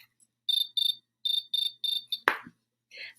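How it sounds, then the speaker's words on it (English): A cricket chirps in rhythmic pulsed bursts, about seven trills in quick succession, fairly close and clear, followed by a short sharp click and a faint rasp. "he chirped the most beautiful sound that she had ever heard. He had to find his cricket."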